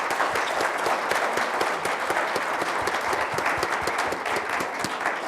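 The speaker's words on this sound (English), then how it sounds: "Give him a round of applause." Applause from an auction crowd greeting the winning buyer, dense steady clapping that fills the room at full volume throughout with no voices over it.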